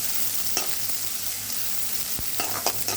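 Ingredients for masala idli sauté in a pan with a continuous crackling sizzle, punctuated by a few sharp utensil scrapes and knocks; no speech.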